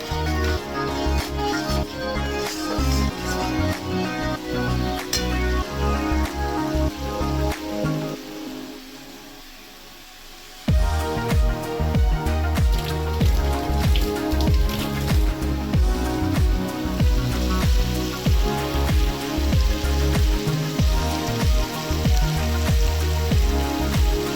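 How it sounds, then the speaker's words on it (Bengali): Spice masala for a bhetki fish jhal sizzles and crackles as it fries in oil, a dense spattering hiss that briefly quiets before surging back louder and continuing steadily. "মশলা তেল ছাড়া অবধি ভালো করে কষিয়ে নেবো।"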